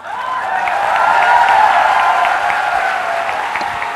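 Sustained applause from a seated audience at a Blue Diamond speech event, dense hand clapping that swells and holds steady with a few scattered cheers.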